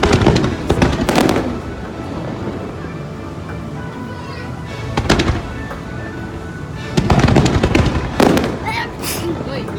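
Epcot fireworks display, a series of booming bursts and crackles at a distance, with background music and people talking nearby throughout.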